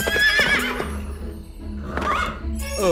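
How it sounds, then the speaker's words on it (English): A horse neighs and whinnies loudly nearby, the calls rising and falling, ending in a descending whinny. "Hey there, horsey horse!"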